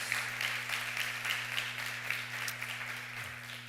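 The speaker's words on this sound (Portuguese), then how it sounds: "Queria que a gente também desse uma salva de palmas para o pessoal do diaconato" Congregation at a Sunday morning communion service claps for the deacons, an even, moderately distant patter of many hands over a steady low electrical hum, fairly quiet and sustained.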